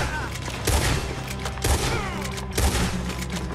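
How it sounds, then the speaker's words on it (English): Dense, chaotic gunfight in Red Dead Redemption 2 as outlaws shoot their way out, overlapping shots and heavy thumps over constant noise, with a few louder cracks standing out at intervals. "Looks like we're shooting our way out of here, fellas!"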